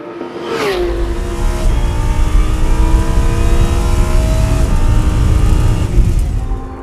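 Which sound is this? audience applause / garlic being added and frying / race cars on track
race cars on track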